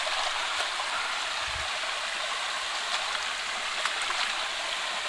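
A forest stream runs downhill near the Andhra Pradesh–Telangana border, a steady, broad rush of flowing water that is moderately loud and continuous, with no voices.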